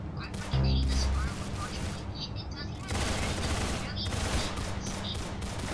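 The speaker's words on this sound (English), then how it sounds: "The firework launcher is kind of like shitty." Rapid bursts of explosive pops and cracks from a firework launcher in the game Arsenal fire in quick succession, with a booming thump early on.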